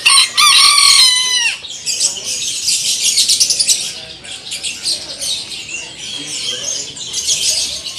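Several roosters crow loudly at a bird market in Magelang, Indonesia, one long close call at the start followed by overlapping crowing and clucking from a crowd of birds, continuing throughout.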